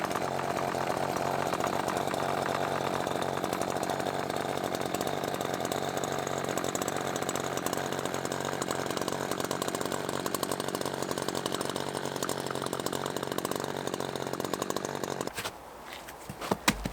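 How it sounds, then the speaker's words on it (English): A brand new chainsaw with its stock factory muffler runs steadily at full throttle for about fifteen seconds, loud and close with a constant buzzing drone, then drops off abruptly near the end. "We'll do a cut with this thing factory, and then we'll go mod the muffler."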